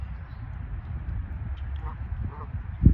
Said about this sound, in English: I've got 2 mallard ducks now waddling their way this way.